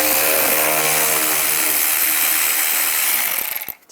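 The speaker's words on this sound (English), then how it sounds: "And then take these screws out. Use a T20 socket." A ratchet with a T20 socket backs out grille screws on a 2010-2017 Chevy Equinox, a loud, close, continuous rattling click that runs steadily for over three seconds before tapering off.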